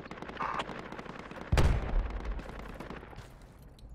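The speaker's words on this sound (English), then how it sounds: "Shots coming from my northeast at 30." Gunfire in the military shooter Project Reality, a loud sharp shot at mid-clip over a steady noisy battlefield background with smaller distant cracks around it.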